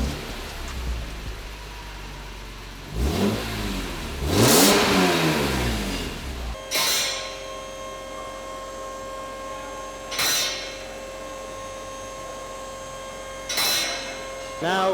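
A BMW E46 M3 engine cranks and fires, revs up in rising and falling sweeps, then settles into a steady idle punctuated by a few sharp revs, heard up close.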